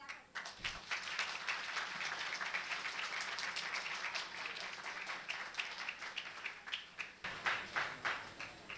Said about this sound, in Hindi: आप इनके लिए ताली बजा सकते